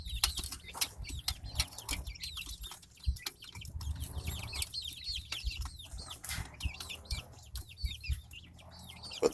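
Young chicks in a coop, a dense flock of high peeps and soft clucks with occasional wing flapping and scratching, busy and close throughout.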